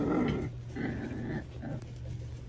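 A tiny puppy growling angrily, close and continuous low rumbling growls in a few rising bursts, with no one speaking.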